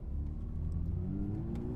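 A Porsche 992 GT3 in sport mode revs hard toward its 9,000 RPM limit, a loud, steady, rising engine howl heard from inside the car without any talking.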